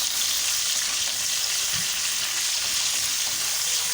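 Garlic-ginger paste fries with mutton liver in a pan over a low flame, giving a steady, loud, continuous sizzle that holds without a break from start to finish.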